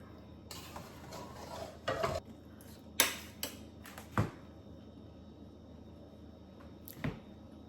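Homemade biryani is stirred and mixed in a pot, with intermittent scrapes and clinks of a spoon against metal over quiet background, several distinct strokes spread out, no voices.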